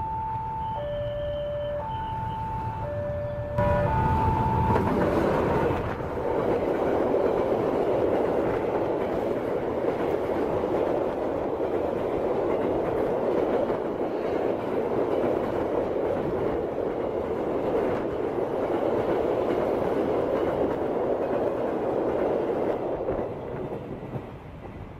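Train rolling slowly along a railway line that runs straight through a market in Medan, North Sumatra: a warning horn sounds first, then a steady, loud rumble with clattering wheels continues for about twenty seconds before easing off.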